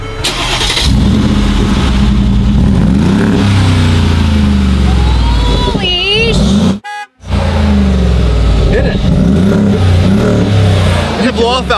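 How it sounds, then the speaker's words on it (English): A 700 HP twin-turbo luxury SUV engine starts up and revs loudly and close, with a brief silent dropout midway before the engine roar resumes, under steady vehicle noise. "This is what a real SUV should sound like."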